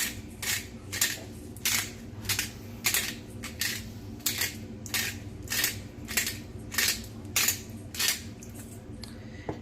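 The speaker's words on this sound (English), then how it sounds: "And then that freshly ground black pepper. And I'm going to set this grind to coarse." A pepper grinder set to coarse cracks black pepper in quick bursts of sharp, crisp crunching clicks, repeating steadily and close up with no speech.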